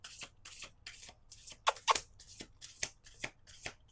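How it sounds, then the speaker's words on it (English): Playing cards are riffled and shuffled in a quick series of crisp, fluttering bursts, close by and fairly quiet. "We'll do 2 more shuffles here."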